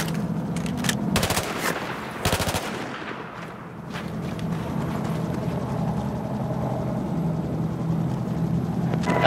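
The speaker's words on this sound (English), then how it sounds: "I'm firing, watch out!" Automatic gunfire in the Battlefield 4 video game during the Baku mission: two loud, sharp bursts of rapid shots close together near the start, followed by a steady droning engine and vehicle rumble that fills the rest.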